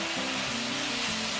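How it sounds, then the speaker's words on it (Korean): Carrots and cabbage stir-fried with beef and green onion crackle and sizzle loudly and steadily in a hot pan for a brief moment, with the scrape of stirring and no talk. "당근과 양배추 함께 넣고 볶아주세요."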